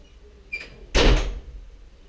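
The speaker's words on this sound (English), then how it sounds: "Close that door, please." A door shuts with a solid thud preceded by a faint knock or latch click, heard alone without talk in an indoor room.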